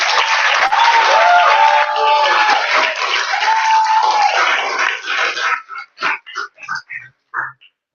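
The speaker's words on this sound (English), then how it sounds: "Let's give him a round of applause, please." A room of attendees at a Startup Weekend event in Timisoara applauds a presenter, a steady burst of clapping for about five seconds that then breaks into a few scattered, fading bursts before stopping.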